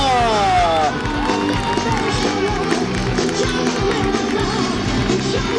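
A large convention crowd cheers and claps in a dense, continuous roar for a Soul Calibur V stage performance, with voices shouting over it and no quiet gaps.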